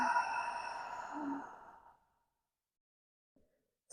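A long, forceful breath pushed out through the mouth during a yoga breathing exercise fades over about two seconds into silence, followed by a brief faint intake near the end.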